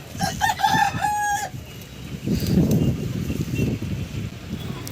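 A rooster crows from a terrace farm, a short rising and falling call at the start. After it comes a rough stretch of lower noise, likely chickens clucking and stirring around the coop.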